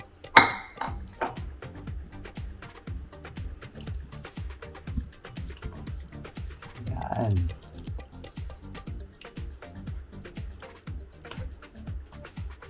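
Metal spoon scraping and clinking against a pan while sautéed squid is stirred into a coconut milk sauce for squid adobo, steady close clatter with brief bubbling, and a voice talking over it.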